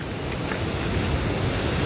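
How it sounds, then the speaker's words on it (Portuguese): Strong rushing water beneath a bridge in snowy Sweden, a dense, loud, steady roar with wind buffeting the microphone. "Olha a força daquela água."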